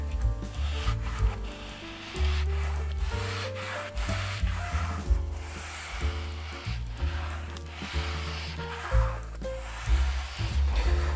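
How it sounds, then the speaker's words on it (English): An RM Tools sander shapes the leading edge of a wooden aircraft wing frame with continuous close rubbing and sanding strokes in a steady back-and-forth rhythm, and no one speaks. "Eventually we're going to continue to sand this until those two lines match up."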